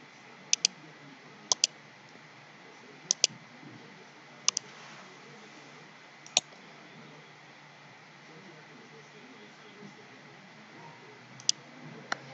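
Computer mouse clicks while working in an Excel spreadsheet, sharp close double clicks repeating every second or so over a quiet hum, with a person talking in between.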